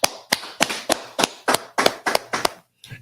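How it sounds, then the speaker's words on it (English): A group claps in unison at a religious gathering, ten loud, sharp claps in a steady rhythm, then a brief pause and a fainter final clap. "Let's clap it up."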